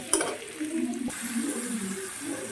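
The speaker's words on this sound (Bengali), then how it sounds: "দেখো এবার আমি এর মধ্যে অল্প পরিমাণে জল দেব একদম অল্প পরিমাণে জল দিয়ে দেব" A small amount of water poured into a hot cooking pan of potatoes sets off a brief splash and then a bubbling, hissing simmer, close and moderately loud.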